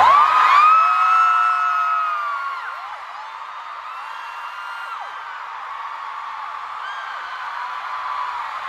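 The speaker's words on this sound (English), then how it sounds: "you can actually hear the screams louder." A stadium concert crowd screams and cheers, high shrill voices swelling loudly at first and then holding a sustained, slightly distant roar of whoops and shrieks throughout.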